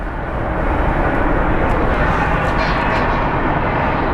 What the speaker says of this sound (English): Hopefully the CRJ will get off of the frickin' runway so Southwest can land.